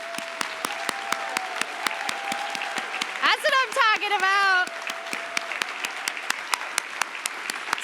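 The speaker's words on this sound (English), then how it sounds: "Let's give them a round of applause" Finalists stand at the Pittsburgh ATHENA Awards 2023 while a crowd claps steadily, with sharp, distinct claps running the whole time. Partway through, a voice calls out enthusiastically over the applause.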